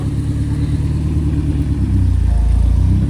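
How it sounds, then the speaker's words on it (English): A left-hand drive BMW 2002 pulls away at a concours rollout, its engine rumbling loud and steady, then swelling lower and heavier as it moves off, with no voices over it. "Look at this left-hand drive BMW 2002."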